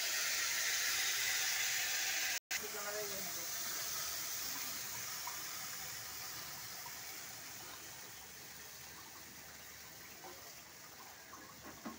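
Sour water poured into cholar dal for a Bengali tok, a steady close gush of liquid that tapers off gradually, with a brief cut near the start.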